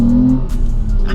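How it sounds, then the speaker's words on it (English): A 2005 Ford Mondeo ST220 V6 gives a deep, throaty induction roar that holds steady at close range, a strong low drone with a rising tone early on and no pauses. "Induction roar from the front end."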